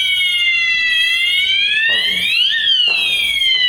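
A loud electronic fire alarm strobe sounder wails continuously, its tone gliding upward then dropping and repeating, piercing and close.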